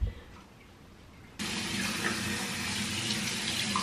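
Tap water runs into a sink during face washing, a brief quieter trickle that suddenly opens into a steady, loud, full gush of running water, with no one talking.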